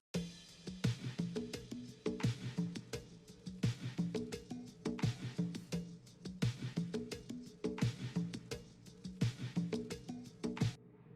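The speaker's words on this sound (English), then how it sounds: "And then there's an extra bongo loop" A repeating hand-drum groove, bongos tapping in a quick, steady looped rhythm, fairly close and alone without voices.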